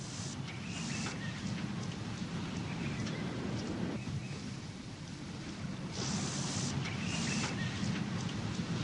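Steady heavy rain falls through a night thunderstorm on an African plain, with low rumbling thunder rolling underneath the constant hiss of downpour.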